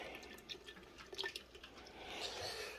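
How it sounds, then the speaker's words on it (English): Evaporated milk poured into a pot of sugar while making fudge, heard as a faint, soft liquid trickle with a few light drips, quiet and close, with no talking. "we're going to pour the evaporated milk in."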